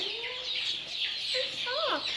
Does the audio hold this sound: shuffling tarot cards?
no